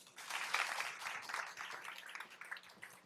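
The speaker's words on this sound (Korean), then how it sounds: "박수 부탁드릴게요." Audience applause at a Korean venture forum presentation, a light, faint patter of clapping that continues steadily for a few seconds with no talk.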